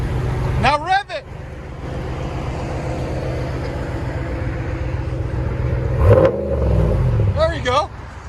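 A RAM 1500 with a 5.7L HEMI V8 and a Flowmaster race muffler revs up close, its exhaust roar surging and falling while people talk and cheer over it.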